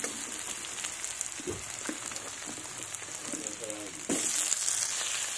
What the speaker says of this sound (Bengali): তো আমি আলুগুলো দিয়ে দিয়েছি